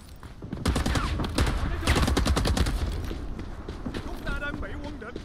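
Covering fire in Rising Storm's Vietnam-era Saigon combat, with bursts of rifle and machine-gun shots cracking over busy battlefield noise while a person talks through it.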